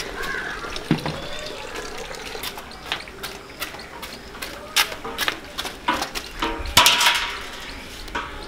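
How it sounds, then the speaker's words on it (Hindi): Water splashed by hand onto the damaged patches of a lane under cement repair, in several short, uneven slaps and splashes, close by, over a steady outdoor background. "अभी जहाँ जहाँ से ख़राब है वहाँ वहाँ पे ना पानी ने ऐसे मार लेंगे थोड़ा सा"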